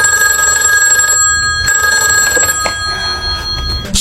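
A telephone bell rings continuously and loudly in a steady electronic trill, with a few thumps and clatters of movement beneath it.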